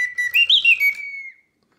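A bellows-driven mechanical bird whistle in a singing bird cage music box gives a single bright, warbling trill like a bird call, rising and wavering before trailing off into silence.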